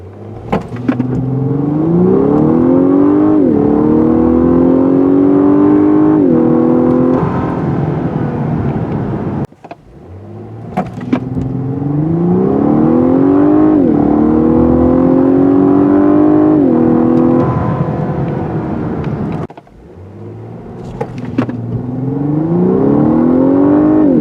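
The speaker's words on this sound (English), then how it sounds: "turn off the traction control and put it in Sport Plus mode" 2019 Lexus LS500 in Sport Plus mode with traction control off accelerating hard, engine revs climbing through the gears in three long pulls separated by quick shifts, loud and close from inside the cabin, with no talking.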